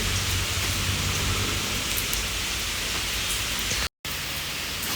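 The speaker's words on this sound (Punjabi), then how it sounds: "ਹੁਣ ਦੇਖ ਲਓ ਜੀ ਫੇਰ ਮੀਂਹ ਆ ਗਿਆ ਨਾ" Steady, dense downpour of heavy rain hissing continuously, broken by a brief total dropout near the end before the rain resumes.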